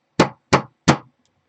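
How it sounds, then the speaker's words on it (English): Three sharp knocks of an Innokin iTaste SVD 2.0 vape mod rapped against wood, evenly spaced, close and crisp, followed by silence. "That was me just knocking this thing on the wood here."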